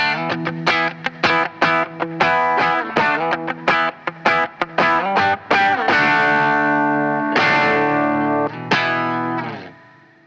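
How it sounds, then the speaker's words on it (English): Reamped electric guitar recording played back through a distortion pedal, a run of bright, heavily driven notes and chords with chorus-like shimmer, played alone and loud before ringing out and fading at the end. "There you have it, the reamp signal."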